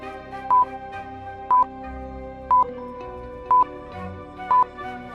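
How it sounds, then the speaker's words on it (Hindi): Phone keypad buttons are pressed one at a time in a cartoon, giving five evenly spaced electronic dial beeps about a second apart over soft background music, with no speech. "मेहुल फोन नंबर की बटन प्रेस करता है"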